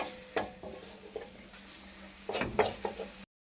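Aloo baingan bhujia, potatoes and eggplant, gets stirred in a pan, giving a few spaced spoon scrapes and light knocks over a faint sizzle, with a busier flurry of strokes near the end, close and quiet, then a sudden stop.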